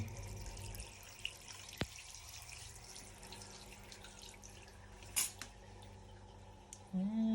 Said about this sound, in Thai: พอเขาถอดเก็ดแล้วนะครับล้างด้วยน้ำเปล่าครับ